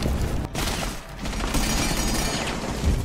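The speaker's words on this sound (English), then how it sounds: "So they can shoot through that, but you can't?" Dense, continuous gunfire from an online shooter video game, sustained loud bursts with a brief dip, nearly filling the whole stretch.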